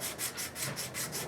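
Sandpaper rubbed with the grain along a ceramic-working tool being resharpened, giving steady rhythmic back-and-forth strokes, about six passes close up with no talking.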